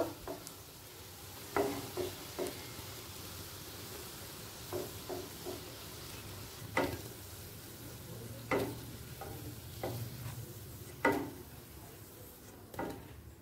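Chhana bara, cottage cheese fritters, sizzle steadily as they fry in hot oil over a gas flame, with a soft continuous hiss broken by occasional louder crackles and stirring clinks.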